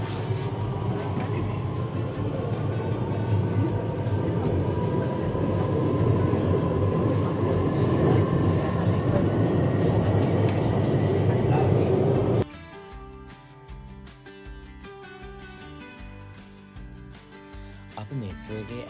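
A metro train at Shanghai airport rumbles steadily along the track with broadband rolling noise for about twelve seconds, then the cabin quiets to a lower hum.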